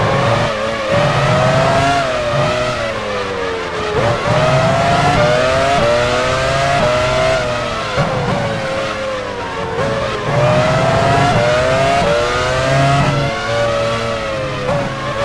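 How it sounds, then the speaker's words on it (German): Formula 1 cars from the 2001 season racing at Spa-Francorchamps in the F1 Challenge 99-02 game, their high-pitched engines rising and falling continuously as they accelerate and shift, loud and steady throughout with no talk. "Button fährt in die Boxengasse"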